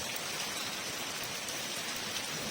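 Heavy rain pours down during a cold, windy downpour in Lahore, a dense, steady hiss of drops with no pauses and no voices.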